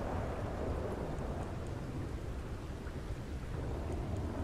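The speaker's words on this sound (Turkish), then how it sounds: "Ne fırtınaymış" A thunderstorm in the open world of Red Dead Redemption 2: steady, dense rain hiss with low rumbling thunder rolling underneath, continuous and fairly loud throughout.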